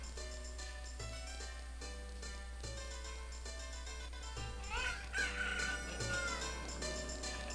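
Chickens cluck and a rooster crows in Ocarina of Time's Kakariko Village, game sounds laid over looping background music with a low steady hum.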